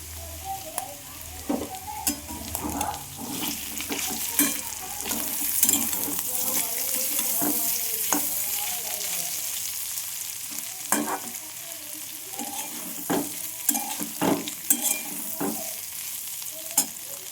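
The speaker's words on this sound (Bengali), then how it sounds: "আমার বিট ভাজাটা হয়ে এসছে। আমি এখানে পোস্ত দিয়ে দেবো।" Beetroot fries in a pan with poppy seeds while a spoon stirs it, giving a steady close sizzle broken by repeated scraping and clinking strokes against the pan.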